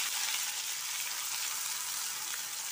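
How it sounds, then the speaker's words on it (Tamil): Chopped onion and tomatoes sautéing in a pan for a spiced egg thokku, giving a steady, even sizzle that holds at one level throughout, with no voices. "வெங்காயம் தக்காளி நல்லா வதங்கி வரட்டும்"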